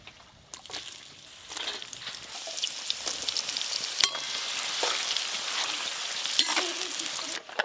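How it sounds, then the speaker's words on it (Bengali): Onions fry in hot oil for chicken biryani, a continuous sizzle broken by sharp crackles and bursts as they are stirred, close and moderately loud. "বিরিয়ানি মানেই কিন্তু বেরেস্তা, তাই আলু ভাজা হয়ে গেছে, এবার বেরেস্তা ভেজে নেব"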